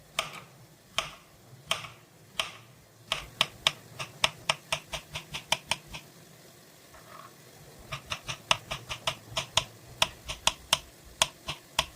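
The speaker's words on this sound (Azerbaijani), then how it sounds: "Taxtanın üzərinə əlavə edib halqa-halqa doğrayıram" A knife slices a peeled banana into rings on a wooden cutting board, giving a series of crisp, close taps in quick runs with short pauses between them.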